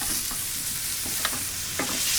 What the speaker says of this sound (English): take some butter, get it into the pan, a couple cloves of garlic, smash it, garlic into the pan.